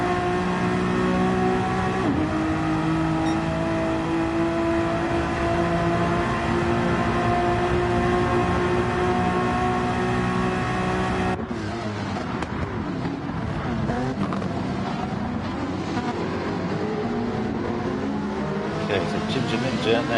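Gr.4 race cars in a racing video game roar down a long straight, sustained engine drone shifting pitch as cars pass and upshift, loud and continuous throughout.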